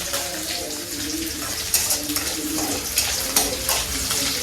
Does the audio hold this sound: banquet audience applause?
no